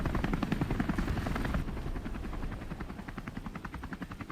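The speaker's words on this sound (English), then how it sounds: "The aircraft departs quickly to minimize exposure to possible enemy fire, heading directly to the forward medical station." Military helicopter lifting off with wounded soldiers in a 1967 Vietnam War setting: a loud, steady rotor chop with rhythmic blade thumps over engine whine, close and continuous throughout with no talk.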